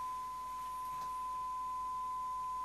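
A steady 1000 Hz test tone comes from a Kenwood KR-9600 receiver on a service bench, fed a signal at the antenna input for distortion adjustment. It is a pure, unchanging faint whine held throughout, with no talk.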